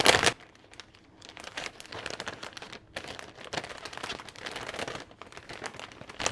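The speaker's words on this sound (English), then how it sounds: "Sorry about the rattling, but you know how this paper is, it just rattles." Wrapping paper rattles and crinkles loudly as greeting cards are wrapped up, with a sharp burst at the start followed by continuous uneven crumpling and rustling close by.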